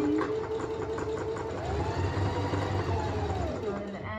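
Sewing machine stitching fabric, including a short back stitch, with a steady mechanical whirring hum running throughout at close range while a person talks over it.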